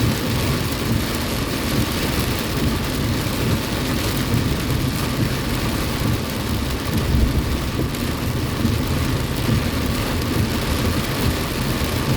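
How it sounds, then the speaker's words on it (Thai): Very heavy rain pours down in a dense, steady roar, broad and continuous with low rumbling beneath, loud and unbroken throughout with no voices. "ฝนตกแรงมากครับ มองแทบไม่เห็นทาง"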